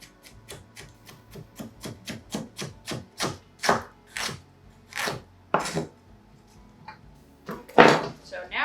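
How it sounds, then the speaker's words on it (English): Knife chopping cabbage cores on a cutting board for sauerkraut: a close, steady run of sharp chops, quick and even at first, then slower and more spaced, with a few heavier strikes near the end. "And then I take the cores and I chop them up pretty well"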